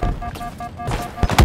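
Gunfire during a Halo Infinite Big Team Battle multiplayer match, a loud, close burst of shots with a tonal hum underneath and heavier booming hits near the end.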